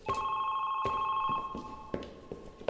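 A telephone bell rings loudly in the indie horror game Glimpse, a sustained electronic ring that stops and gives way to a few scattered clicks and thumps.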